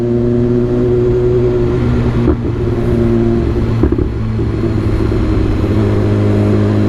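BMW S1000RR superbike engine revving hard and loud up close, a sustained high-pitched roar with brief dips at quickshifter gear changes, no speech.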